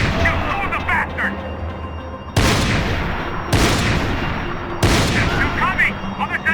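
Gunfire in the video game Max Payne 3 booms in three loud, sharp bursts that ring out and decay, with shouting voices and game noise between the shots.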